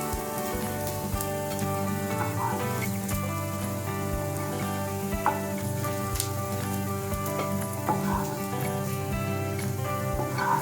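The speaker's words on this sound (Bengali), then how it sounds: "টিক্কাগুলো আমার ভালো করে ফ্রাই করা হয়ে গেছে। আমি এবার এগুলোকে একটা একটা করে তুলে নেব।" Pieces of paneer tikka fry in hot oil with a dense, steady sizzle and scattered sharp pops and crackles throughout, close and continuous.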